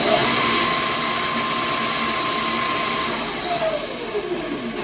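A 2000W MY1020 electric motor fitted to a 60V Razor Ground Force Drift Kart, running in speed mode 3 with a steady high whine that then drops in pitch as it winds down, close and fairly loud.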